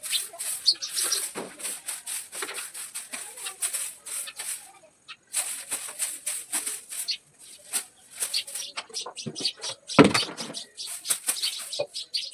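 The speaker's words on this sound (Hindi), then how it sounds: "आवाज़ है चिड़ियों की चिड़चिड़ाती आवाज़" Small birds chirp busily around a village home in the morning, dense overlapping high calls near and far, with scattered rustles and one louder knock in the middle.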